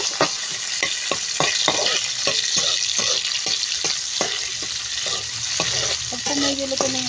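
Onion and tomato being sautéed in a frying pan, a steady sizzle of hot oil broken by repeated sharp scrapes and clacks of a utensil stirring, close and loud with no talking.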